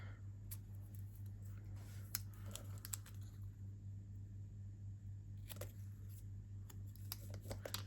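A few sharp snips and small clicks over a steady low hum, scattered and close, like scissors cutting paper on a tabletop.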